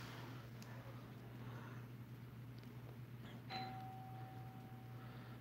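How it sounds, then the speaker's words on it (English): A single faint electronic doorbell chime rings once, its tone lingering, over a low steady hum in a quiet room. "Fucking stupid doorbell."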